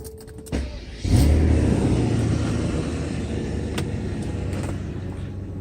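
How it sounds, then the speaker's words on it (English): A Mercedes S600 with a repaired throttle control module starts up with a short cranking burst, then catches and settles into a steady, fairly loud idle that runs on alone to the end. "Start the engine."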